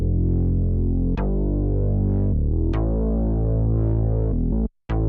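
A solo synth bass from a Novation Bass Station plays loud sustained notes with rich harmonics, changing pitch every second or so with sharp attacks, before a brief silent gap near the end.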